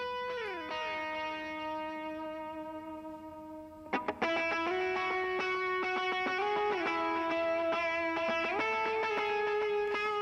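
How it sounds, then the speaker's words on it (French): Sustained electric guitar chords with reverb applied during mixing ring out with a spacious, echoing tail, notes blending into a wash of reverberation; a sharp strum change midway, then steady layered tones. "je vais essayer de mettre la reverb tout de suite dessus"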